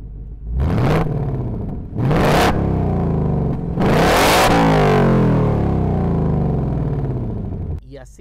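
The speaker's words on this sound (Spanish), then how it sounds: "Ahora vamos a hacer lo mismo, pero en modo normal." Ford Mustang Dark Horse engine with exhaust in normal mode giving three revs of growing length, each throttle blip swelling then sinking to a rumbling idle, close by and unaccompanied.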